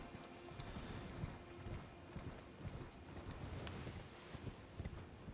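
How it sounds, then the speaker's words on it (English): Horse hooves clip-clop in steady rhythm as a mount trots through Liurnia in the video game Elden Ring, the hoofbeats clear and moderately loud over a soft game ambience. "get on your horse"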